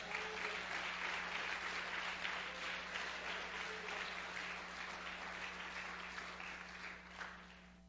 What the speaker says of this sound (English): If you still love me, clap your hands.